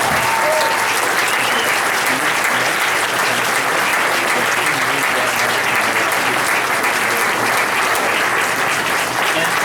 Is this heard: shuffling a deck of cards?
no